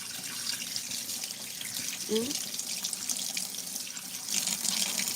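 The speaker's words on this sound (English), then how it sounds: "let's wash our pretty little hands because we have to wash up this pot" Tap water running steadily into a sink while hands and a pot are washed, a constant hiss with faint splashing throughout and a brief voice sound near the middle.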